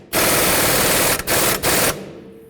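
A power tool, likely an impact wrench, drives a nut onto the front driver's side axle bolt of a 2008–2012 Jeep Liberty. It hammers loudly and close in three bursts, the first long and the other two short, with a brief pause between each.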